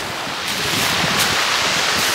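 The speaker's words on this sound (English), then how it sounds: "you can see here behind me the ocean" Surf and ocean waves along the North Atlantic shore roll as a steady, loud wash of broadband noise, with wind buffeting the microphone throughout and no talking.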